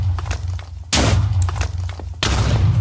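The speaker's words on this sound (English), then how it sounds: "Just keep doing that, and it'll cause a mini explosion" Two loud, close TNT blasts go off in Minecraft about a second apart, each a sharp thud followed by a rumbling burst.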